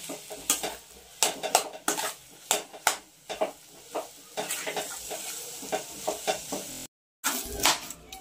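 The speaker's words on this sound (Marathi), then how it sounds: "एक 5 मिनिटं आपल्याला हे असं व्यवस्थित परतून घ्यायचं आहे." Potato mixture for Kolhapuri katwada being sautéed in a pan, with repeated sharp spatula scrapes and clinks against the metal over a soft sizzle, steady and close.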